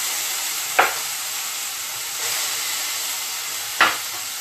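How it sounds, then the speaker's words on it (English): Oil in a hot pan sizzles with a continuous bright hiss, and two soft bursts of crackle come as food is stirred, close and steady with no voices. "you want that sizzle."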